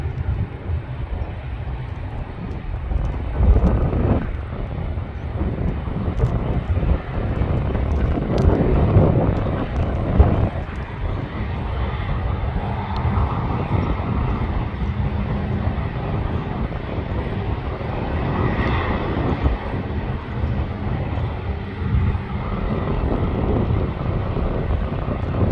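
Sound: airplane engines testing reverse thrust at Canberra airport

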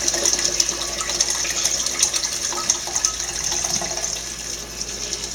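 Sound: water pouring into a cooking pot

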